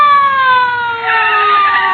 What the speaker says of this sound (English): Mamma Mia, is a siren.